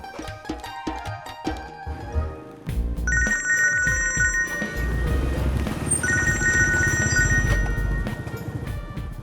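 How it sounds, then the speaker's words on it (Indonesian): A telephone rings in repeated electronic bursts over a bed of music, the trilling rings starting a few seconds in and repeating twice. "Ada telepon."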